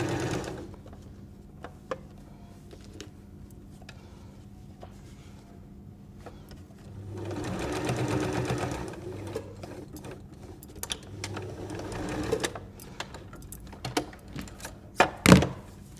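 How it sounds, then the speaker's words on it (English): A sewing machine stitches the seam of a fabric cutlery pouch in a close, steady mechanical whir for several seconds, then a shorter run, with scattered clicks and thunks of handling fabric and adjusting the machine around it. "So you've now sewn your flap and your outer"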